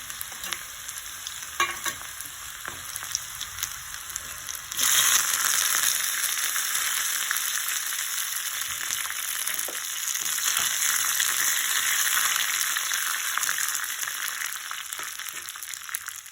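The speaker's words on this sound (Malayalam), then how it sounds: "ഇത്തിരി ഇട്ടിട്ട് നല്ലോണം ഇതൊന്ന് വഴറ്റിയെടുക്കണം" Ingredients being sautéed in a pan for a home-style Kerala dish: a steady, close crackling sizzle that grows louder and denser partway through, with occasional stirring scrapes and no talk.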